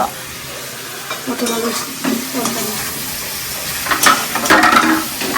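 Food sizzles and is stirred in a pan in a home kitchen, with steady frying hiss under intermittent scraping and clinking of the utensil against the pan, louder toward the end.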